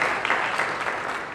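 Members of a Haitian Baptist church congregation in Philadelphia break into a short, close burst of clapping during a service.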